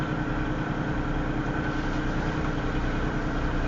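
An idling Norfolk Southern (NS) locomotive on a stack train, sitting south of Elkhart, Iowa, gives off a steady, low, continuous rumble with no distinct events and no talking.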